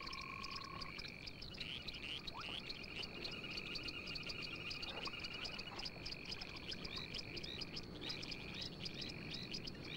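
Frogs croak steadily in a dense chorus of repeating calls at an African pond, with faint chirps mixed in, all fairly distant and even.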